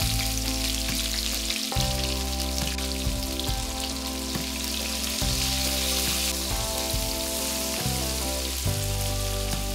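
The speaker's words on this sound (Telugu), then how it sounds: "సన్నగా కట్ చేసి పెట్టుకున్న ఉల్లిపాయ ముక్కలు కూడా వేసి బాగా వేపుకోండి" Thinly sliced onions fry in hot oil with whole garam masala spices, a loud continuous sizzle and crackle that carries on steadily throughout.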